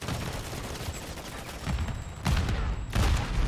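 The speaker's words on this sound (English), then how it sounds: "I don't know who's shooting me." Rapid gunfire in the Modern Warfare 3 video game, a dense fusillade of shots with louder bursts toward the end, amid chaotic in-game action.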